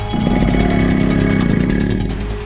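A motorcycle engine runs close by with a loud, steady, throbbing drone that fades slightly toward the end, with no voices.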